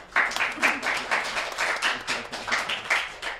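Audience members clap in a rhythmic, unison beat, each burst of claps landing at a steady pulse roughly twice per second, fairly close and clear.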